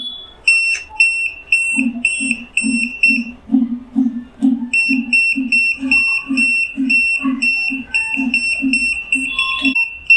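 A steady electronic buzzer on an Anang 681 digital multimeter in continuity mode beeps in rapid, regular pulses with a high piercing tone, close and loud, briefly pausing before resuming.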